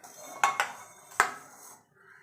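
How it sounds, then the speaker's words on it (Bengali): A kadai wok set down on the stove: a few sharp metallic clanks, two close together and then one more, followed by a faint settling rattle, near and alone. "দেখুন বন্ধু, কড়াই বসে দিয়েছি,"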